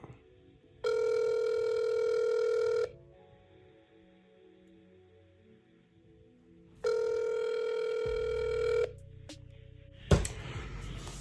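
An unanswered telephone rings through a handset, two long buzzing rings separated by silence, followed by a click and a brief burst of noise.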